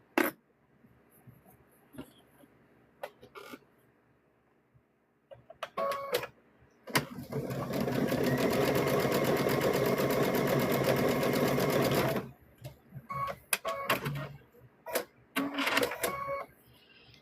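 A sewing machine stitches along the edge of a stuffed bear's seam, one sustained loud whirring run of about five seconds between scattered handling clicks and thumps.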